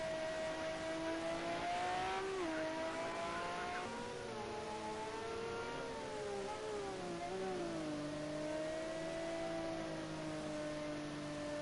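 Le Mans race car powered by a Ferrari F130E 4.4-litre naturally aspirated V12 with a carbon fibre and aluminium honeycomb monocoque chassis, its engine note climbing and falling steadily through gear changes, loud and close throughout with no talking.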